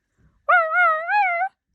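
A small dog gives a single drawn-out whining bark aboard a ship scraping against an iceberg, a clear close yelp lasting about a second, alone with no talk.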